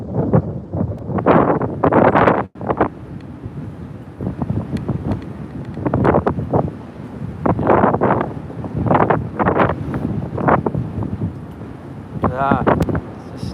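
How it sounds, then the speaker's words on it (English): Gusty wind buffeting the microphone outdoors at Vancouver Airport, a loud low rumble rising and falling in repeated bursts through most of the clip, fairly close and harsh. "that's the wind"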